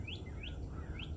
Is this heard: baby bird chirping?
yes